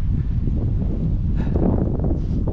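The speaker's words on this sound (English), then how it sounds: "Windy today." Steady wind blows across the microphone in a continuous low rumble with gusty buffeting and faint rustling throughout.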